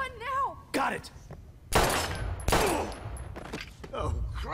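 Gunfire in Life is Strange rings out as a couple of loud, sharp bursts with ringing tails, mixed with someone talking over the action.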